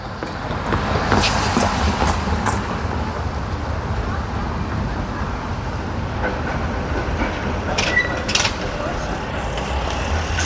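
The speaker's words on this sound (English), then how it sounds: "Yeah, let's let the tram pass." A tram in Sofia rumbles past on a city street at close range with a steady low roar and faint rail clatter, a few sharp metallic squeaks and clicks rising above the noise.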